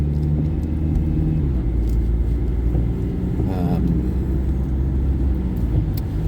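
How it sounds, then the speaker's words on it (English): Heavy road traffic on a school day makes a continuous loud low rumble of engines and tyres, with vehicles passing close by and steady droning throughout. "Heavy traffic, it's a school's day again."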